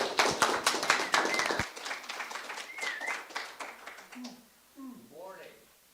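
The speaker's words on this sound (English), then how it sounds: "Let's give him a big round of applause." Audience applause greeting a guest speaker at a talk, a dense burst of clapping for about the first second and a half, then thinning out as someone begins speaking.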